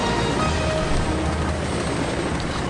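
Steady, loud airplane engine roar holding a dense broadband drone throughout, with a low rumble underneath and no pauses, as the throttle is opened wider.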